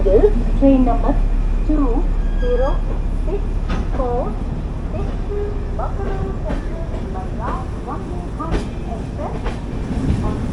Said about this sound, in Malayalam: അതാണ് ഇപ്പോൾ കയറി വന്ന മാവേലി എക്സ്പ്രസ്.